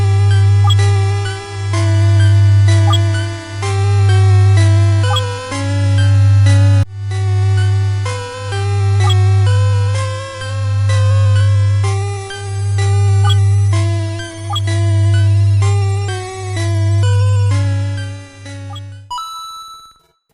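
The eerie theme from the Pokemon video game plays alone, a bright chiming chiptune melody over a steady pulsing low tone, repeating in regular swells before cutting off near the end.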